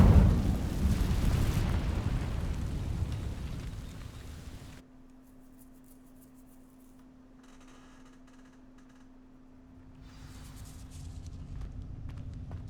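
An Incendio fire spell igniting dry vines in Hogwarts Legacy: a loud roaring whoosh of flame at the start that fades, leaving a low steady hum, then crackling rises again toward the end.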